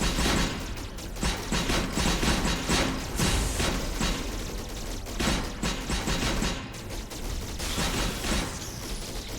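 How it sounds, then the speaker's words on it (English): Antiprism, an old-school virtual reality shoot 'em up, pours out a dense, loud barrage of rapid shots and bullet impacts, unbroken bursts surging and dipping over several seconds with no talking. "It's shooting up a lot of bullets at me."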